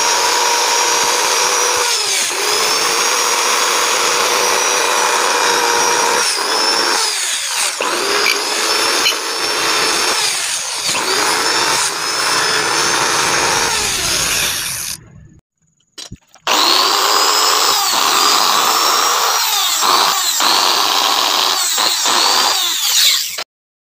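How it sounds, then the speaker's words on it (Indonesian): A power drill spins a brush made from cut motorcycle clutch-cable strands, scrubbing carbon deposits from a motorcycle cylinder head's combustion chamber and ports; a loud, steady whine and scraping that stops briefly once, then resumes. "kita bentuk seperti sikat ya, tinggal masukkan ke bor"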